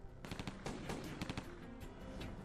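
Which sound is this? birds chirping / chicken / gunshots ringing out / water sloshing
gunshots ringing out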